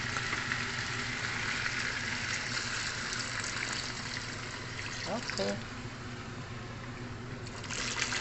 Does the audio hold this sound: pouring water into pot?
yes